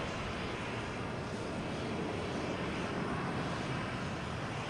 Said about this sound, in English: JetBlue just landed in A321 from Palm Beach. Here we have Delta taking off